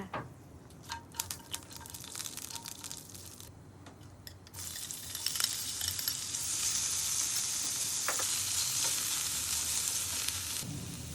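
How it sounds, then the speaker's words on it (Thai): Marinated sea bass stir-fried in olive oil with cinnamon and bay leaves: clinks and scrapes first, then a loud, steady sizzle from about five seconds on that holds to the end. "ผัดให้เขามีกลิ่นหอมขึ้นมา แล้วก็ตามด้วยปลากระพงที่หมักไว้ค่ะ"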